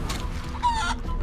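A chicken sound effect from the Chicken Claw skill in Divinity: Original Sin 2 gives a brief, squawking cluck, close and clear over low game ambience.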